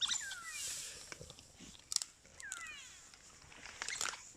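A big pack of African wild dogs feeds on a freshly killed impala at a game reserve, with faint crunching and tearing under high twittering calls and chirps, all distant and soft.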